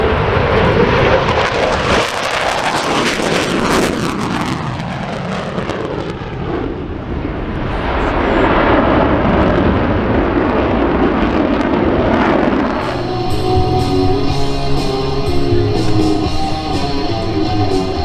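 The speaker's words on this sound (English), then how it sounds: "Here's the F-15 in a high-speed low." An F-15 Eagle fighter jet roars past in a high-speed low flyby at a Dover AFB airshow, a loud sustained jet rumble that swells, sweeps through and leaves a trailing engine whine.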